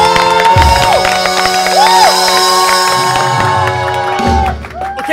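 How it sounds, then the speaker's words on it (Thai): Studio audience at a Thai variety show cheering and whooping to welcome the first contestant, loud and steady, over music and a host's voice. "ขอเสียงปรบมือต้อนรับผู้เข้าประกวดท่านแรกครับคุณใบพลู"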